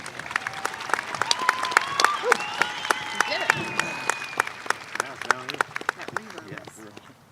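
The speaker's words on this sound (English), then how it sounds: "Let's give her a warm round of applause as she takes the stage." Audience applause at a high school graduation ceremony, a scattering of sharp claps with crowd cheering and voices mixed in, fairly close and uneven, tapering off toward the end.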